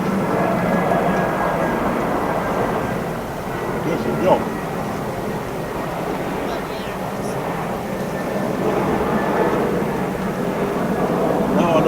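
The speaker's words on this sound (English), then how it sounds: "Sorry about the plane going over." A plane passes overhead at an outdoor woodland cooking spot, a broad steady rumble under the whole stretch while someone speaks briefly.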